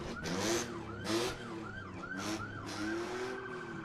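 A Pima County Sheriff's vehicle siren wails, rising and falling over traffic rumble at the Mount Lemmon Independence Day parade, with bursts of air-horn blasts mixed in, fairly close.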